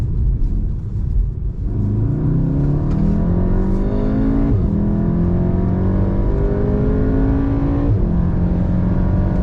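Heard from inside the cabin, a Volkswagen Golf 7R accelerates hard, its loud engine note rising through the revs and dropping sharply at each of several gear changes before climbing again.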